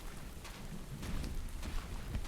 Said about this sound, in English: This rain is just not letting up at all.